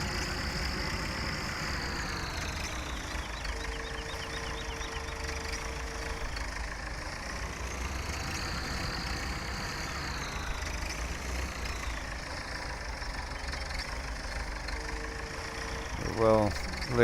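A tractor engine idles steadily in Farming Simulator 17 on a sugar beet farm, with a continuous mid-pitched drone and low rumble throughout and a brief louder clatter near the end.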